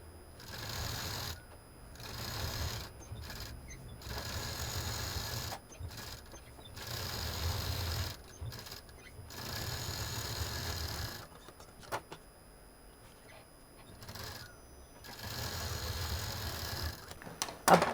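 A sewing machine stitches a cloth face mask with a cap in repeated short bursts of rapid needle whirring, each lasting a second or two and separated by quiet pauses, close and fairly soft.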